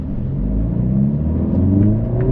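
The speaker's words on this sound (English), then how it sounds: "Let's see how fast we can go on this car." A 2025 Mercedes-AMG CLA 45 S Coupe accelerates hard from inside the cabin, its engine note rising loud and steady with quick, seamless paddle-shifted gear changes.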